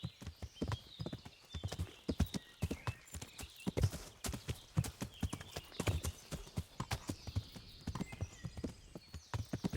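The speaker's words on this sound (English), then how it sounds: "Sir Hans' horse." Horse hooves clip-clop in a steady walking rhythm throughout, close and clear, from a mount in the medieval role-playing game Kingdom Come: Deliverance, with no talk over it.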